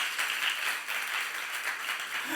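A church congregation claps together during a youth-service sermon, a soft, steady patter of many hands heard at a distance, fairly faint and without any voices over it.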